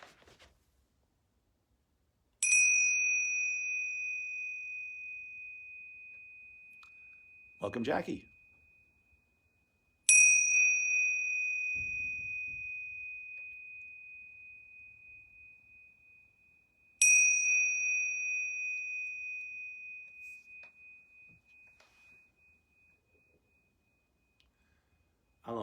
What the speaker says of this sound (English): So I'm going to ring these yoga bells 3 times.